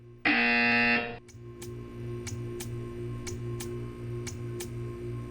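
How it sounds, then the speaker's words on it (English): A loud, steady electronic buzzer from the video game Portal 2 sounds for about a second, followed by a quiet hum with a soft, regular ticking. "You will hear a buzzer."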